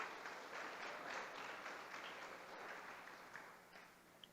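A church congregation claps during a sermon, a soft, steady spatter of applause heard from a distance that slowly thins out.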